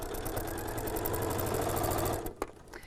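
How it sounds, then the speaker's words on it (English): A sewing machine stitching along a fold line in African wax print fabric runs at a steady fast whir for about two seconds, then stops, leaving a brief knock and faint handling. "I'll put my needle down, remove the pin and start sewing, following that line the whole way round."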